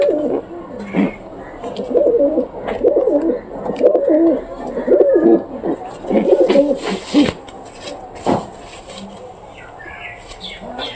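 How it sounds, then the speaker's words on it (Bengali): Domestic pigeons cooing in a loft, a run of soft rhythmic coos close by, with a brief flutter of wings near the end. "এটা তো আমার মনে হচ্ছে দোবাস কবুতর"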